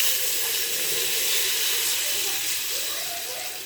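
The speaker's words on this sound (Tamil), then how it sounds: "புளி தண்ணி சேர்த்துக்கலாம்." A steady loud sizzle and hiss of tamarind water hitting a hot pan, continuous throughout and slowly fading toward the end.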